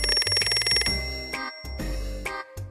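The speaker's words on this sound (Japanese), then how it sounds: "あ、きっと依頼の電話ですよ、" Telephone ringing in a cartoon detective's office, a few bright repeating rings over bouncy background music, loud and close, with no talk.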